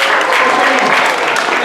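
A children's science show audience claps for a young girl volunteer, a dense, steady wash of applause filling the short moment at close range.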